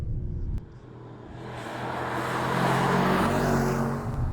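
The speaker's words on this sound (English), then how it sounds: "with that V8, the sound is great." A 2024 Mercedes-AMG S63 V8 engine rises in a smooth swelling roar as the car accelerates, growing louder and steady after a brief dip, with no talk.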